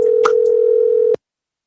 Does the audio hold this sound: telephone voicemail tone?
yes